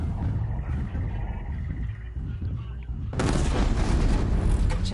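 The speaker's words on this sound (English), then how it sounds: "This is gonna be like a big ass explosion, like holy fuck." A big video game explosion: low rumbling and muffled booms build, then a loud broadband blast erupts about three seconds in and roars on, close and with no voices.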